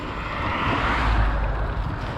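A big truck rumbles up from behind to overtake on a road, a loud, low engine roar that swells and peaks midway as it closes in.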